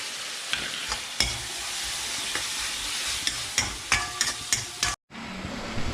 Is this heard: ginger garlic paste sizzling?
yes